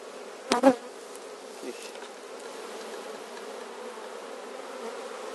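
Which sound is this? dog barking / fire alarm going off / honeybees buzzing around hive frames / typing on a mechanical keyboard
honeybees buzzing around hive frames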